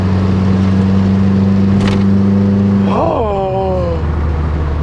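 A Peugeot car on a test drive rolls over a road bump, its steady engine hum and tyre noise shifting with a brief thump and a rising whine as it clears the bump, with no scrape.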